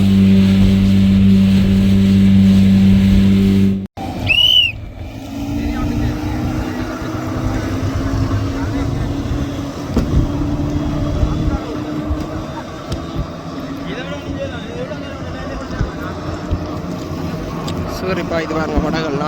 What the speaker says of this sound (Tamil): இது பாருங்க படகுகள் 40 ஹோர்ஸ் பவர் இன்ஜின்கள்.